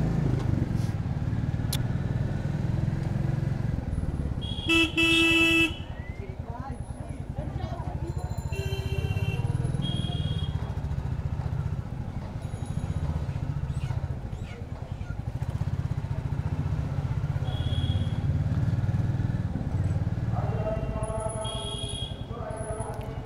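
A new red Royal Enfield Bullet 350 ridden through traffic in Bangladesh over speed breakers, its steady low engine thump running throughout with passing vehicle noise and horns, while the rider talks over it.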